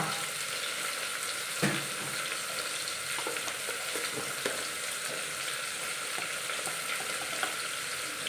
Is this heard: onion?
yes